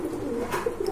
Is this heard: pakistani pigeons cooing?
yes